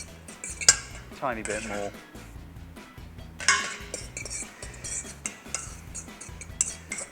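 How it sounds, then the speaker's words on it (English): A utensil stirs and scrapes through a cauliflower frittata mixture in a bowl, with repeated clinks and scraping knocks against the dish; a voice briefly speaks partway through. "Give that a bit of a mix."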